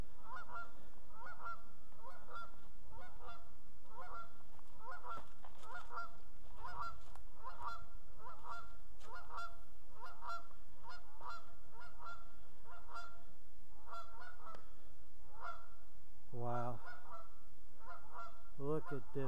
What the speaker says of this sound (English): got a bunch of geese.